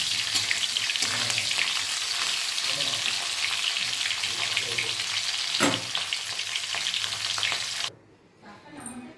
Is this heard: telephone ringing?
no